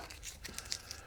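Painter's tape tearing off the roll during an engine pull on a Pontiac Grand Prix LS4, a quick run of sharp crackling rips heard alone and close.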